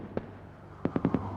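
Fireworks going off during a British TV soap scene: one distant bang, then a quick burst of four pops, heard at a moderate distance with no talk.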